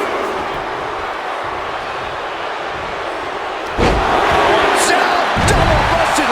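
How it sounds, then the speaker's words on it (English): Loud, steady crowd roar fills a wrestling arena during an Elimination Chamber match in the WWE 2K25 video game, swelling louder about two-thirds through with sharp bursts on top. "when you can't hear yourself think because the crowd's so loud"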